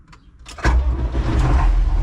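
A farm vehicle engine, likely a small John Deere tractor, cranks briefly and fires up, then settles into a loud, close, steady rumble.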